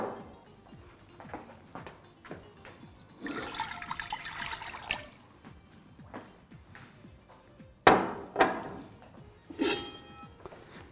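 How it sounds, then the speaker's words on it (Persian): Water is poured into a metal cooking pot on the stove while making halim, giving a splashy rush of several seconds mid-clip amid quieter kitchen clatter and a few sharp knocks. "یک مقدار آب دش اضافه میکنم."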